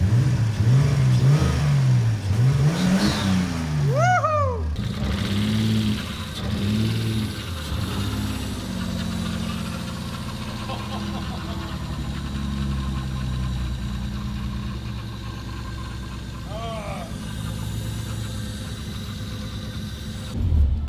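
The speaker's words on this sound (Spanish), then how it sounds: "ahora el motor suena mucho más saludable, especialmente a la hora de revolucionarlo" Nissan Skyline R32 engine, freshly repaired, blipped through several sharp close revs early on, then settling into a steady idle with a few more brief rises, no talk.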